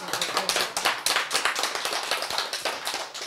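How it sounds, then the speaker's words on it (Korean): An audience at a lecture claps together, giving a steady, fairly close burst of applause lasting a few seconds with no talk over it. "박수, 박수."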